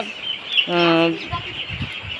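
Chickens clucking at night during a Gumboro vaccination session, a short run of clear clucks and calls at close range, with faint background noise.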